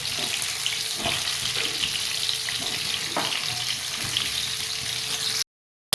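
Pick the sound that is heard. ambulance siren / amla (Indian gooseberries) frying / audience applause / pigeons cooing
amla (Indian gooseberries) frying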